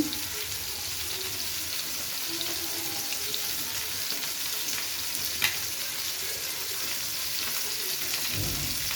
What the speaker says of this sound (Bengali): কড়াইতে আমি তেল দিয়ে নিয়েছি এর মধ্যে শুকনো মরিচ দুটো শুকনো মরিচ ছেড়ে দিয়ে দিচ্ছি